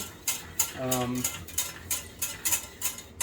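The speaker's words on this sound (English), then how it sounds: "we're going to mix it until it basically becomes like custardy" A utensil scrapes and clinks against a pot in a steady rhythm, stirring a custard mixture on low heat for a peaches and cream Swiss roll cake, with a brief voice in the middle.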